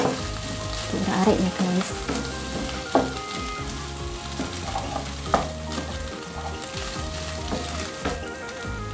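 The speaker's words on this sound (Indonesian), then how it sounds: "Setelah kacang buncis layu, kemudian masukkan lagi telur. Aduk rata." Green beans and egg sizzle steadily in a frying pan while a utensil scrapes and stirs, with occasional knocks against the pan and a brief spoken remark.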